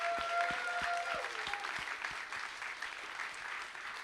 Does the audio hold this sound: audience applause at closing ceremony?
yes